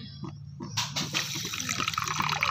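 About a cup of water is poured into a pan of sugar to make syrup, a short gush of liquid that starts suddenly and keeps splashing close by for a couple of seconds.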